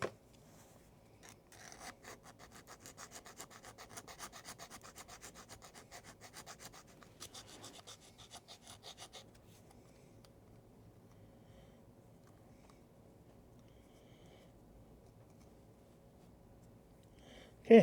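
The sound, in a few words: filing the bottom of a U.S.S. Reliant model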